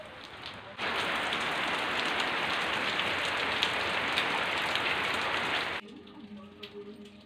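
Heavy rain falls on potted plants outdoors, a dense hiss of drops that starts abruptly, holds steady for about five seconds, then cuts away to quieter scattered dripping.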